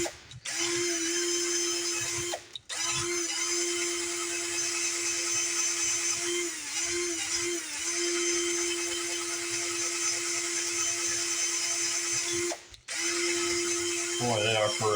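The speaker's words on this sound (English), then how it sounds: "clean that up with the drill" A close, high-pitched power drill whirs steadily while cleaning corroded flywheel magnets on a 1977 Ryan commercial bricktop mower, cutting out briefly twice before spinning up again.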